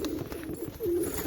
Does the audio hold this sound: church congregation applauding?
no